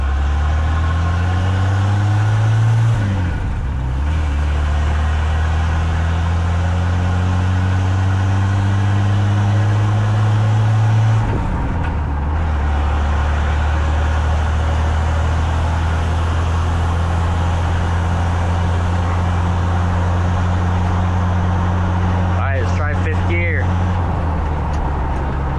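A Ford F100 pickup fitted with a new 5-speed manual transmission drives along, its engine droning loud and close with rising revs that drop sharply at each gear change, steady throughout.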